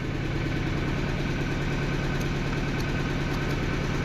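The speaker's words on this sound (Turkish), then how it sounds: "Motor nasıl çalışıyorsa bu şekilde." An old grey-covered Husqvarna 61 chainsaw with a chain oiling fault idles steadily up close, a constant low mechanical putter with even vibration throughout and no voices.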